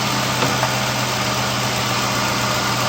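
A car engine idles steadily after a rebuild, a continuous low hum with a firm rumble and constant vibration, close and fairly loud with no voices, the exhaust manifold running hot.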